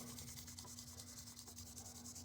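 A Savage 93R17 rifle bolt is wet-sanded with 1000-grit sandpaper, producing a faint, steady scratchy rubbing that continues without break and without speech.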